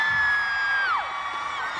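A concert crowd at an outdoor Christmas festival show whoops and cheers, a sustained wash of voices with one shrill whoop sliding downward, loud and continuous.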